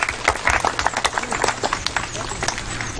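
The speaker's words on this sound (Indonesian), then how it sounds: "Mari kita semua sambut Bapak Uskup dengan tepuk tangan yang meriah." An audience claps to welcome the bishop of the Amboina diocese during his visit to Central Maluku, a dense, lively burst of many hands clapping at once, loud and continuous throughout.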